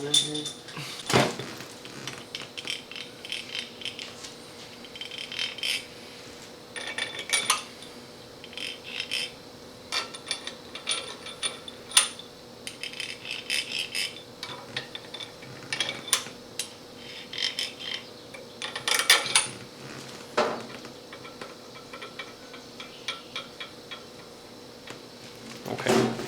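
Metal bolts clink and rattle as they are set into a cylinder head on a 383 engine in a home garage, with scattered small metallic taps, clatters and handling sounds across the whole stretch and a few voices talking faintly.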